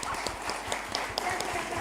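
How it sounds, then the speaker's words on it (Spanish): Audience applause at a gathering on the role of women in politics in Curuzú Cuatiá, a brief, steady patter of many hands clapping in a room, fairly close and without pause. "Así que un aplauso para José."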